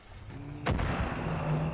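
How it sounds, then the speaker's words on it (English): One loud gunshot booms over a steady background hum, its low rumble ringing out briefly afterward, in the video game Far Cry 5. "I heard gunfire"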